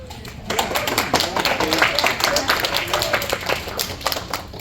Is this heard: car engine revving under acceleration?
no